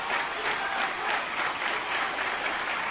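An animated baseball stadium crowd applauds steadily, dense clapping swelling in waves from a large audience with no voices standing out.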